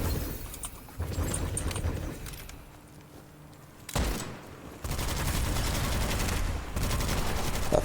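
The updated Midas rifle in the video game Witchfire fires in loud, rapid bursts, dense volleys of shots separated by a brief lull near the middle, with no voice over them.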